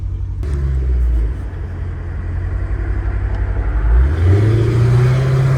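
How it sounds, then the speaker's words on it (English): A Dodge Challenger Hellcat Redeye idling and then being revved, with a deep rumbling exhaust that climbs as the engine spins up and a faint whine on top, close and loud, with no voices. "the supercharger Whine was everything for me"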